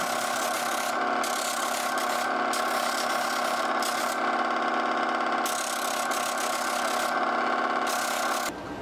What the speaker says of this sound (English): went to the flex drum sander and with 220 grit, I sanded over everything.